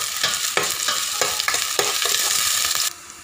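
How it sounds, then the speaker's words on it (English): Garlic and onions sizzle loudly in a hot pan, with a steady close crackle broken by several scraping stirs before the frying noise drops off. "we're gonna go ahead and put the onions. And then we'll go ahead and caramelize this first"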